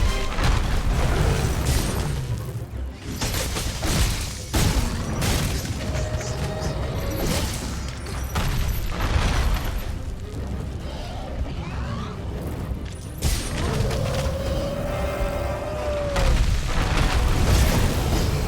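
Repeated booming blasts from Bazelgeuse's dropped bombs in Monster Hunter World, loud and near, bursting irregularly amid game effects and occasional voice.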